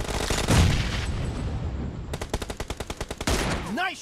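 Gunfire in PUBG Mobile: a burst of single loud shots, then a rapid run of about a dozen evenly spaced automatic rounds, close and sharp, with game sounds around them.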